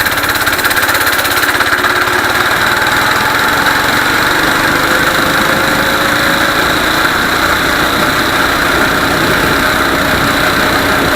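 Small mini bike engine held at full throttle during a top speed run, a loud continuous droning whine with steady vibration and wind rush, sustained throughout with no talking.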